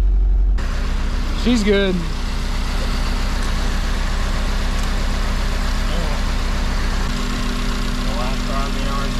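An Acura RSX with a K20 Z1 engine idles steadily with a low, even hum, a voice speaking briefly over it early on.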